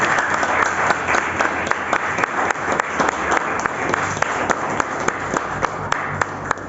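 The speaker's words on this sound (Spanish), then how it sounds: "Dale un fuerte aplauso al Señor." A church congregation applauds the Lord during a Spanish-language prayer service, sustained loud clapping in a dense steady wash with some sharper claps standing out.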